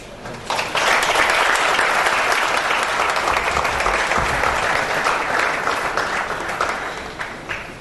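Sustained audience applause at a conference summit, a dense wash of many hands clapping that swells quickly, holds loud and steady, then gradually thins out toward the end.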